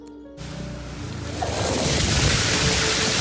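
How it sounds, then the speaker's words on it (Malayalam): Kerala floodwater surges with great force past a house, a loud, steady broadband rush that swells and thickens after a quieter opening, continuous and close. "അത്രയ്ക്കും ഭയങ്കര ഫോഴ്സിലാ ഈ വെള്ളം അടിച്ചോണ്ടിരിക്കുന്നത്"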